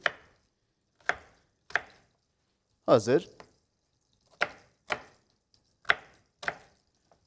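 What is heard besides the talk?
chopping chicken into large cubes with a knife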